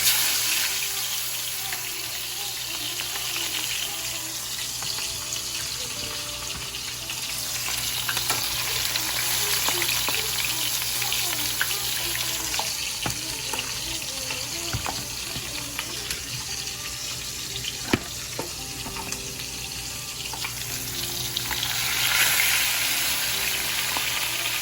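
Fish frying in a generous amount of hot oil, with a steady close sizzle and crackle throughout, occasional sharp pops and spatters, and faint clinks of kitchen utensils.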